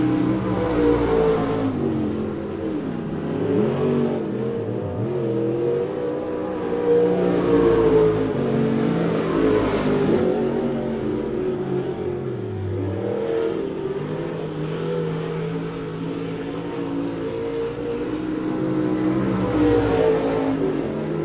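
Race cars lapping Monett Motor Speedway during a feature race, engines roaring and revving continuously as cars pass, rising and falling in waves with loud close sweeps at intervals.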